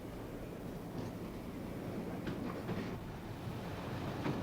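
A train runs on a rural branch line near King's Lynn in 1969, a steady low rumble with faint rhythmic clatter throughout, fairly distant and without voices.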